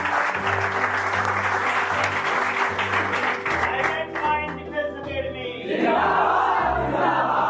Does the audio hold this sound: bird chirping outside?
no